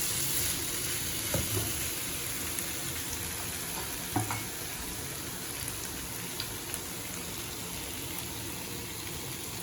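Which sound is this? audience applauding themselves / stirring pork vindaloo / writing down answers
stirring pork vindaloo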